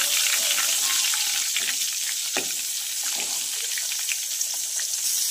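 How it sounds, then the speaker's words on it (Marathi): Butter melts into oil in a pan while cooking pav bhaji, giving a close, loud, continuous sizzle and crackle with scattered popping spatters. "त्याचबरोबर आपल्याला बटर घालायचं आहे आणि छान हे बटर असं वितळून घ्यायचं आहे"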